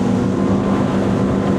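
XO DSCVR 9 T-Top boat with a V10 400hp outboard running flat out near 5,800 revs around 40 knots, a loud steady engine roar with hull and wind rush, constant and close throughout.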